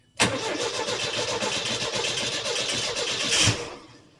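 A 1968 VW Type 3 engine with original fuel injection cranks loud and close in one continuous churning run of about three seconds without catching, then cuts off abruptly.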